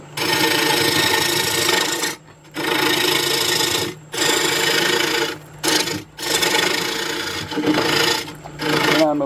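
A wood lathe hollows out the inside of a turned bowl, the tool scraping and rasping in loud sustained passes broken by several short pauses.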